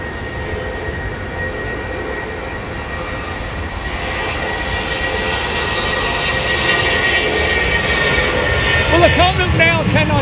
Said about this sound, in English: nice 747 jumbo.